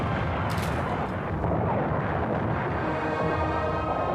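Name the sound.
artillery bombardment of Leningrad in World War II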